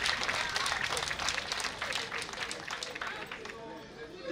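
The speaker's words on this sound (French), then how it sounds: "Applaudissez pour moi et pour vous tous" A crowd applauds at the inauguration of the COMUBA office in Savè, a thick, sustained patter of many hands that gradually thins, with crowd noise and voices mixed in.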